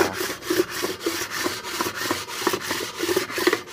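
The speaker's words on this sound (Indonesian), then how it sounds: "Aku pakai ini kaca sama amplas. Nah, tak gosok di sini guys" Sandpaper laid on a sheet of glass scrapes back and forth as a Vios engine part is rubbed clean of old glue, a close, rhythmic rasping stroke repeated about every third of a second.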